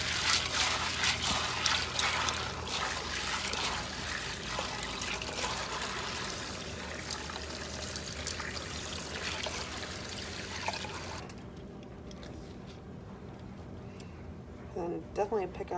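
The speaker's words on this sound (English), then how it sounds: "I'm just gonna wash them, rinse them in the sink" Dried beans being rinsed under a running tap in a kitchen sink before canning, a steady close trickle and splash of water that continues for most of the clip and then drops away near the end.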